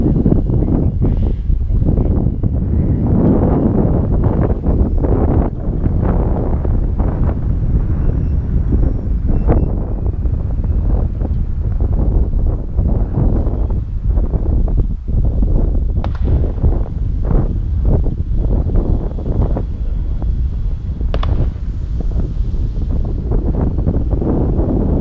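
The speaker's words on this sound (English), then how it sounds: "The wind caught it." Loud, constant wind buffets an outdoor microphone with a deep rumbling roar that stays heavy and unbroken throughout, with no voices heard.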